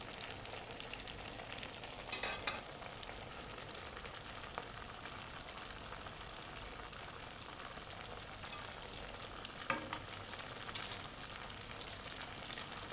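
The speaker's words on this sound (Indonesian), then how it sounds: "Ini kita goreng sampai kuning." Cassava balls deep-fry in oil with a soft, continuous sizzle, faint and steady, broken by a couple of brief clinks.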